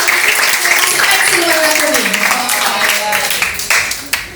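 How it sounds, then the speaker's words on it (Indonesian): Students at SMP Negeri 75 Jakarta applaud during an anti-drug school session, a loud burst of clapping mixed with raised voices that thins out and tapers toward the end. "tepuk tangan buat tadi anak sudah jujur"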